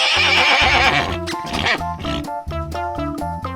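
A white horse in a forest lets out a loud, drawn-out whinny that breaks into a series of shaking neighs, close and clear over a faint music bed.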